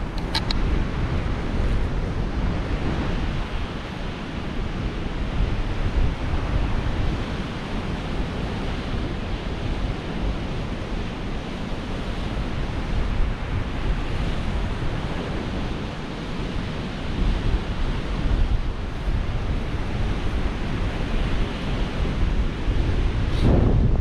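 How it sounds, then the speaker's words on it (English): Strong gusting wind roars steadily across the microphone on the Lincolnshire coast at Six Marshes, with surf noise blended in and no talk. "This wind is apparently gusting to 20 mile an hour, but I think it's a bit more than that."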